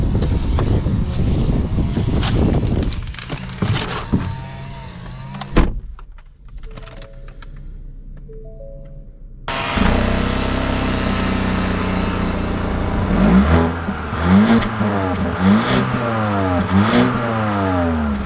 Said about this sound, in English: let's take this Fusion out and see how she drives